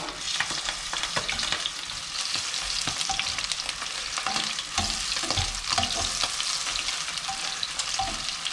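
Beer-battered squid fries in hot oil, a loud continuous crackle with sharp spitting pops throughout, close up and with no talk.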